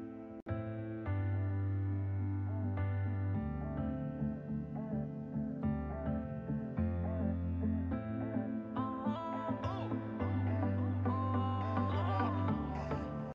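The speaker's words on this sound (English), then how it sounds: "it just sounds like a piano" A piano plays sustained chords with a low bass line and melodic notes rising higher toward the end, fairly quiet and without voices.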